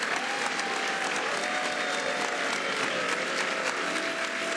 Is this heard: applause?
yes